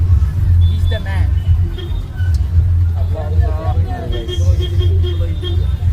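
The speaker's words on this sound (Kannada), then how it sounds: "ಬಸ್ಸಲ್ಲಿ ಹೋಗ್ತಿದ್ದೀವಿ ನೋಡಿ" Low engine drone and road rumble fill a moving vehicle interior, with people chatting over the constant hum.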